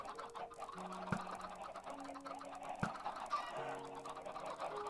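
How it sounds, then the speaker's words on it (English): Chickens in the Minecraft video game cluck in short repeated bursts amid steady game background tones, fairly quiet and without speech. "there went another chicken"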